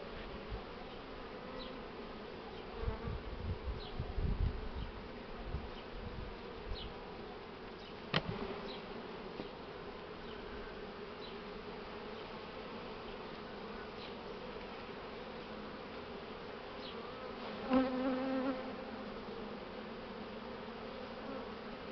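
Honey bees buzz around hive frames while a swarmed colony is being split into nucleus hives, a steady dense hum close by with a few louder passes.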